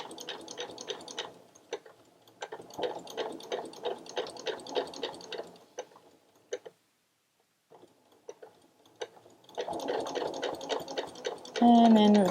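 Sewing machine stitching a lanyard with a backstitch, running in several rhythmic bursts of rapid ticking stitches separated by brief pauses, close and moderately loud, with a squeaky sound near the end.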